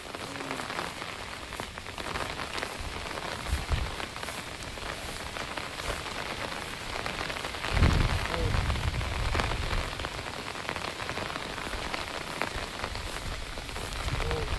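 Rain falls steadily on a surface on a Konkan farm, a constant dense patter with a few louder spatters, no voices.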